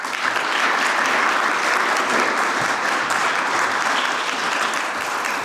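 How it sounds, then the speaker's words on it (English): Warm, sustained applause from a large audience at an economic policy conference, steady clapping that carries on evenly for several seconds. "please give her a warm applause"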